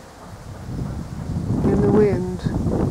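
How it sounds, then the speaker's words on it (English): Wind blowing through a honey locust tree on a sunny winter afternoon, a steady broadband rush that swells slightly midway, with a faint bird call briefly over it. "In the wind."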